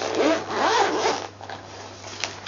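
The zipper on a Smiggle travelling pencil case is pulled open in a couple of quick, close ripping strokes, followed by softer handling noises, with no talking.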